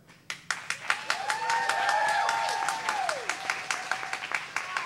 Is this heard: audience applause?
yes